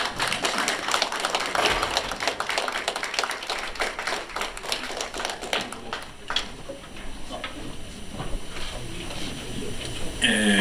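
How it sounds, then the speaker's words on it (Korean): An audience at a May 18 Democratic Movement anniversary ceremony in Los Angeles claps to welcome a professor to the stage, a dense, loud round of many hands that thins to scattered claps toward the end. "이제 오 교수님이 올라오실 때 여러분께서 큰 박수로 환영을 해주시기 바랍니다"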